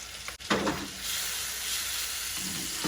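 Butter steak chicken cooking in a pan over low heat, a steady soft sizzle and hiss after a brief clatter and stir near the start, close and alone without talk.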